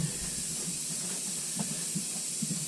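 A cutting torch hisses steadily and loudly while cutting a caliper bracket for a 14-bolt axle, a continuous close rushing roar with faint crackles underneath.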